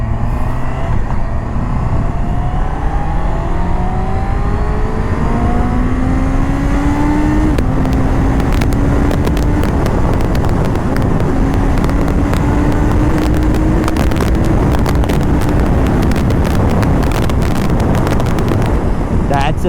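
A Honda CBR 650R with an OEM quick shifter accelerates hard through seamless upshifts, its engine note climbing in steps with brief dips at each shift. Heavy wind rush runs throughout, and there is no speech.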